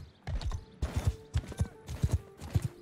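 Horse hooves plod at a steady rhythm in Mount & Blade 2: Bannerlord, a series of close, fairly quiet clip-clop thuds with faint creaking between steps.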